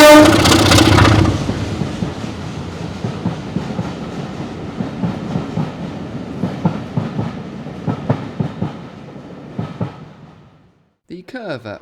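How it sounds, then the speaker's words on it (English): Locomotive 33108, on loan from the Severn Valley Railway, hauls empty coaching stock past Hill Place Farm on the Bluebell Railway. A loud opening burst fades into rhythmic clickety-clack of wheels over rail joints, continuing steadily as the coaches roll by. "33108, on loan from the Severn Valley Railway, hauls an empty coaching stock movement at Hill Place Farm"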